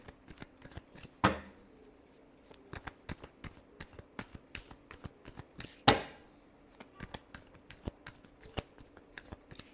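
Tarot cards being shuffled by hand, a steady run of quick riffling snaps and flicks with two louder slaps standing out, close up and alone with no talk.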